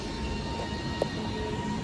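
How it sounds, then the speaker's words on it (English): A Class 331 electric train pulls away from Newton-le-Willows station as a steady low rumble with faint whine tones, heard fairly quietly and continuously, with no voices. "So I'll record this train leaving when it departs."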